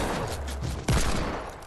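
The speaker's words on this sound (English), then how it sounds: "Two shots!" Gunshots in a Fortnite match, a short rattle of shots then a single sharp, loud blast standing out against background game noise.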